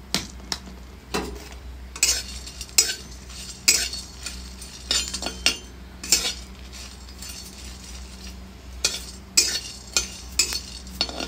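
Cumin and chillies dry-roast in a pan, stirred with a metal spoon that clinks and scrapes against the pan in irregular, sharp, close taps over a quiet background.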